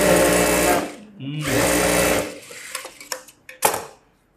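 A sewing machine stitches around a buff sleeve in a tailoring class, two long steady runs of motor whir with a short pause between, then a few quick clicks and bursts as it slows and stops.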